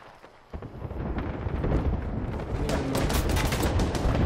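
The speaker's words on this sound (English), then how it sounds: "Oh my god, he's shooting at me again." Gunfire in a video game, a sudden loud onset followed by dense continuous shooting and rumbling blasts, close and heavy throughout.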